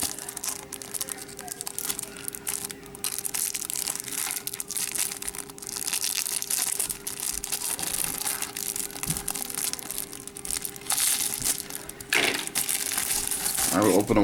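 Sealed plastic packaging for a Takara Tomy Transformers MP-11 Skywarp figure being cut open, with steady crinkling and crunching of plastic close up, a faint continuous hum underneath and a sharper rustle near the end.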